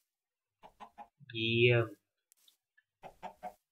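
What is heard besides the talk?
chickens clucking in video game Minecraft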